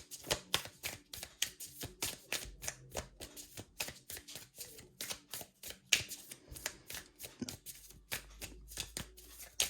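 Tarot cards are shuffled and drawn, making rapid, repeated papery riffles and flicks close by. The texture is quiet and steady across the whole stretch, with no voice.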